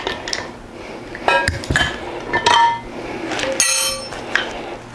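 A motorcycle front wheel bearing is drawn out with a puller as a wrench turns, giving a series of sharp metallic clanks and clinks, with a bright ringing snap near the end as the bearing breaks free.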